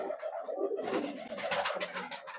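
Pigeons of a high-flying breed coo inside a loft, a steady run of soft, close calls with a denser rhythmic stretch in the second half.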